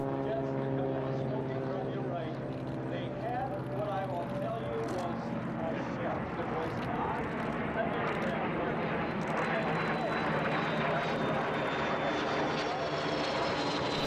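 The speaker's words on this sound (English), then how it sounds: "Leading are 3 F-86 Sabres." Three F-86 Sabre jets fly past at the EAA AirVenture airshow in Oshkosh, their engines making a loud, continuous roar that holds steady through the pass, while crowd chatter and voices carry underneath.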